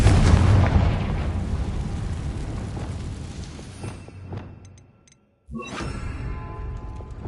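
A Confringo blast spell going off in the Hogwarts Legacy video game: a loud, broad explosive roar that rumbles and slowly fades, drops into a moment of silence, then gives way to a fresh burst of game noise.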